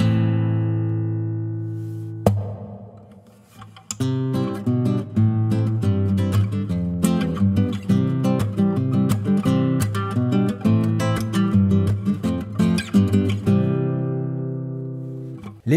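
A Prodipe Primera acoustic guitar plays a demonstration passage, a sustained chord ringing out, then a busy run of plucked notes and strummed chords that fades to a final ring, close and clear with no talking.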